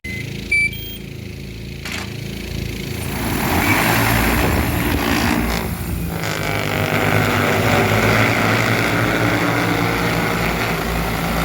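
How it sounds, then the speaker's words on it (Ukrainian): An XAG P100PRO agricultural drone flies over a winter wheat field spreading fertilizer, its steady propeller drone loud and continuous, swelling slightly as it passes, with no talk. "Дрон летить на ту лінію, де закінчив кидати і докидати буде з того місця, де закінчив"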